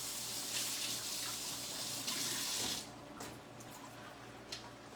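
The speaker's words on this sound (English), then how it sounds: "let me rinse this off" Tap water runs steadily into a kitchen sink as something is rinsed off during home cooking of cabbage, fried chicken and cornbread, a broad continuous splashing that stops abruptly after a few seconds, leaving faint drips and clinks.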